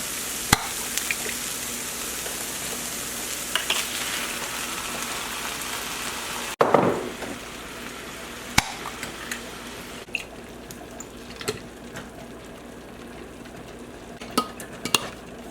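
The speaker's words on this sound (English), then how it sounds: "Let's stir this around, make sure the meat gets all mixed in." A spoon stirs ground meat through marinara sauce in a pot, giving wet squelching and scraping with soft sizzling underneath and occasional sharp clicks of the utensil against the pot, close and steady, no talking.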